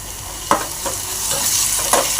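Onion, green chili and turmeric stir-frying in a pan for spicy Marathi pithla, giving a steady close sizzle broken by a few sharp spatula scrapes and stirs, with no one talking.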